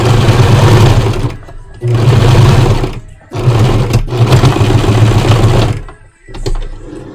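A sewing machine runs loud and close, stitching a seam on a suit in several long humming bursts separated by brief stops, with no speech over it.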